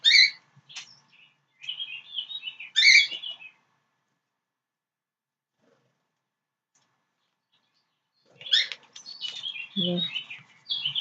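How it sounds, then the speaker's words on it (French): Outdoors, birds trade bright chirps and trills in two bursts, separated by several seconds of near silence, with faint soft rustling toward the end. "Vous aurez le chant des oiseaux."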